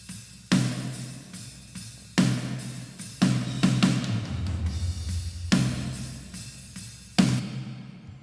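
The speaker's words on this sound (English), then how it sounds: "And that in combination with the snare top and bottom mics and the sample" Snare drum blended from top and bottom mics with a layered sample and chamber reverb, struck in a steady pattern of sharp, loud hits each followed by a roomy tail, with low tom-like rumble midway and no talking.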